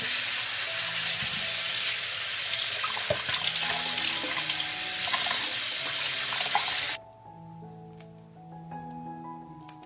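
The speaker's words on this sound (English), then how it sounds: "First, I will wash it and clean it from the stems." Tap water runs steadily while fresh grapes are washed in a sink, a broad hissing stream that cuts off near the end, leaving faint clinks and drips.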